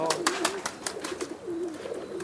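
A white pigeon brought from the border coos close by in a loft, low rolling warbles repeating several times while other birds chirp faintly around it.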